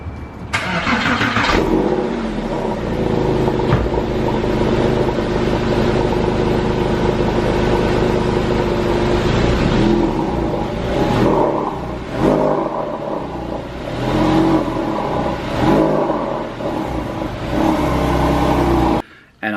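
A Porsche 911 GT3 engine cold-starts with a sharp catch and then holds a loud, rough idle with repeated throttle blips and revs through the exhaust, heard close.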